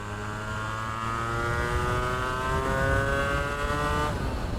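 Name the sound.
250cc two-stroke V-twin sportbike engine accelerating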